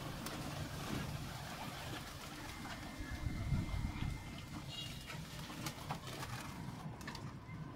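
Soft pigeon coos come through a steady outdoor background hum, with occasional brief sounds and faint voices in the distance.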